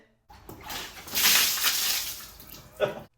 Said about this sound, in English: We took a bucket of water and threw that on the unit.